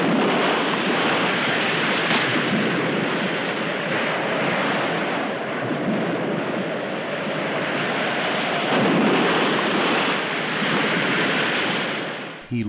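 Film storm at sea on a ship's deck in Frankenstein: The True Story (1973), with a continuous loud roar of crashing waves and wind and heavy rumbling thunder, dense and unbroken throughout, with no voices.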